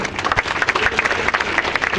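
A crowd bursts into brief, dense applause, many hands clapping at once in a short steady patter.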